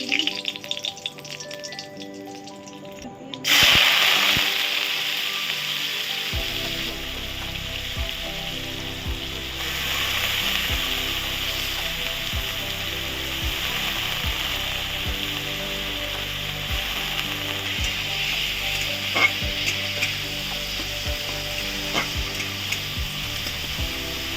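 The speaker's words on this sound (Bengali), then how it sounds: "তরকা করে নিচ্ছি তেলটা গরম হতে দিয়ে দিয়েছি শুকনো লঙ্কা" Dry red chilies sizzle in hot oil for a tempering, a steady loud crackle that swells after a quiet start, with a few sharp pops and clinks of utensils throughout.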